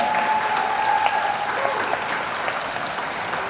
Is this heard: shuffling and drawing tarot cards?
no